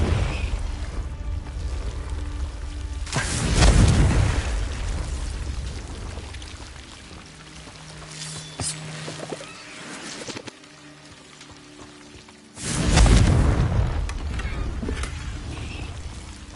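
Confringo explosive spell in the video game Hogwarts Legacy, with two loud, rushing blasts several seconds apart over ambient game sounds and bird calls.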